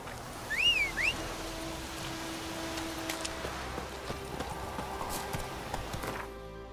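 Horse hooves clip-clop steadily in The Witcher 3, an even, moderately close trot over a soft ambient game background, with a few brief chiming effects.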